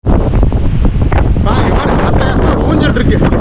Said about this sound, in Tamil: செம்ம காற்றடிக்குது